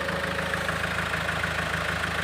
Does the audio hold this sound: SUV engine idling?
yes